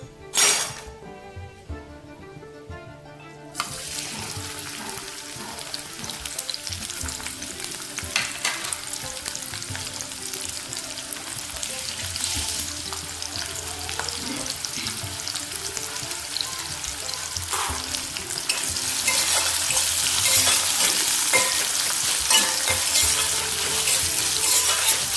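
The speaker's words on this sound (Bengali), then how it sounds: "এবারে এই তেলে আমি পেঁয়াজটা দিব" Crushed onion drops into hot oil in a pan after a few seconds of quiet, then a steady close sizzle and crackle runs on with occasional stirring clinks and grows louder toward the end.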